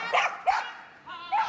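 A Border Collie named Zest barks repeatedly during a loud, noisy agility round at Crufts, with several sharp, close barks arriving in quick bursts and short gaps between them.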